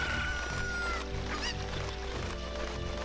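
A cuckoo, the chicken of Zelda: Ocarina of Time, clucking and squawking in the game, a few short honking calls over steady background music.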